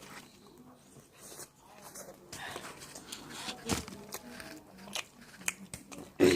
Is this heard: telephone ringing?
no